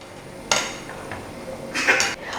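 Chicken 65 pieces being turned over while frying in a pan: a few sharp metallic clanks and scrapes of a utensil against the pan over a steady background hiss.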